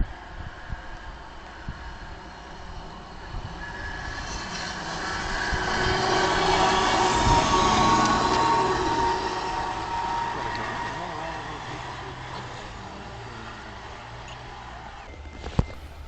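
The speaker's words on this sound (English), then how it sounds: "First real action was a Union Pacific inspection vehicle that passed through the museum shortly after we arrived." A Union Pacific rail inspection vehicle passes through a railroad museum, its engine rumble swelling as it approaches, peaking midway and fading as it moves off, with a sharp click near the end.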